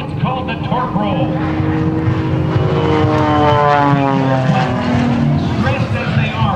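An aerobatic propeller plane hangs on its prop through a torque roll at the Blue Angels Homecoming Airshow, the engine roaring loudly as its pitch slides and wavers while an announcer speaks over it.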